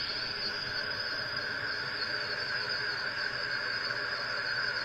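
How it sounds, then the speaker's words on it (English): Crickets chirp outside on a calm, quiet night, a steady high continuous trill that stays even throughout, with faint background hiss and no voices. "Definitely hear crickets and different things outside."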